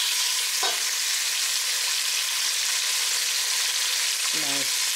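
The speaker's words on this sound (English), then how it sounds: "next we'll saute the celery, carrot, onion," Celery, carrot and onion sautéing in a pot, a loud, even sizzle filling the whole stretch, with two brief voice sounds over it near the start and end.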